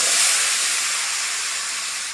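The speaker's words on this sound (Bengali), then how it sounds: "পেঁপেটাকে ভালো করে একটু ভেজে নিতে হবে।" Papaya pieces frying in hot oil give a loud, steady sizzle and hiss that starts strong and tapers off slightly, with no talking.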